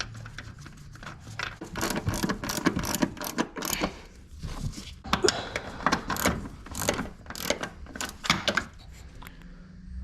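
Ratchet tightening strut bolts during an air suspension install on a 2018 Mercedes C63, rapid clicking bursts in repeated runs, close and fairly loud, with no talk.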